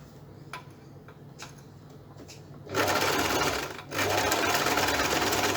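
A sewing machine runs a zigzag stitch along a fabric edge to neaten a seam allowance, with light ticking before it starts, then two loud, steady bursts of stitching separated by a short pause.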